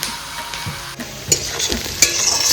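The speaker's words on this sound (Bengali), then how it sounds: "তো এটা হয়ে গেল অলমোস্ট গোল্ডেন ব্রাউন ভাজি দিলাম চিকেনটা" Chicken fries in a pan until almost golden brown, a close, steady sizzle broken by a few sharp stirring scrapes, with no talking.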